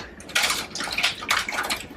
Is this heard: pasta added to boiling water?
yes